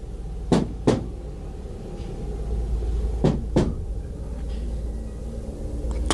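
Two pairs of sharp knocks on a truck's driver-side door, each pair a quick double rap, standing out against a low steady rumble in a quiet setting.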